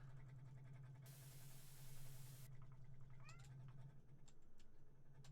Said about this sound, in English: My cat wants to go out for a little bit.